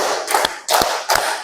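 A group of people clap together on a counted cue at a positive-culture dissemination session: three short, loud bursts of hand claps spaced about half a second apart, with no voices.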